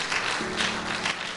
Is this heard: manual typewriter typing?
no